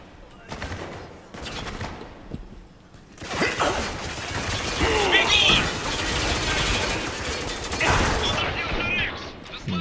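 Machine gun fire and scattered gunshots in the shooter game Spec Ops: The Line, rapid bursts growing denser and louder after a few sparse early shots, with a mechanical clatter mixed in.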